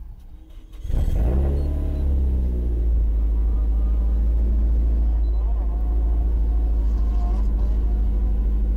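A Nissan S14 Silvia Kouki drift car at the Tenzan circuit in Japan fires up with a sudden loud roar, then holds a deep, steady engine rumble close by while people talk over it.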